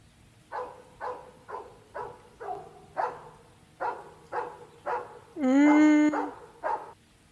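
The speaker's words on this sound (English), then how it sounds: "A dog?" A dog barks repeatedly at a steady rhythm, about ten short, fairly close barks, broken by one longer whining yelp before the barking resumes.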